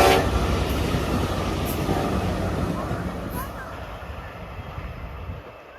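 An Ontario Northlander delivery train led by a Union Pacific ACE locomotive rumbles past, loud and close at first, with brief horn-like tones, then the rolling roar gradually fades into the distance.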